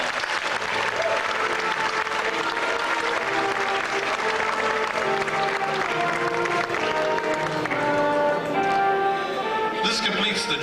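An audience at a senior women's pageant claps in steady, sustained applause that fills the room, blended with background music throughout.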